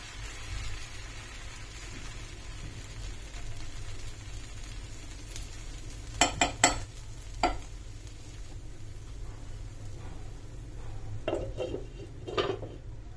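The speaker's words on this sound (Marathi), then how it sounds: "आता आपण हे बॅटर तव्यावर घालतोय आणि त्याचा असा छान डोसा करून घेते" Fasting dosa batter cooking on a hot griddle, a low steady sizzle broken by a few sharp metal utensil clinks and scrapes.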